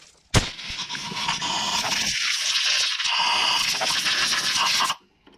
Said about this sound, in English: I'm going to get the air and I'm going to blow it off